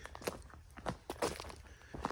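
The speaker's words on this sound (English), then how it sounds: "Hear that crunching? It's all acorns. There are so many oak acorns on the ground." Footsteps crunch over oak acorns scattered on a forest floor, a faint, steady walking rhythm of soft cracking steps.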